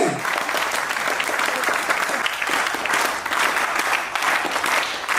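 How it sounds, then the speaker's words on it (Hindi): Loud, sustained applause from a crowd at a company announcement event in Lucknow, steady clapping filling the whole stretch without pause. "तालियां रुकनी नहीं चाहिए।"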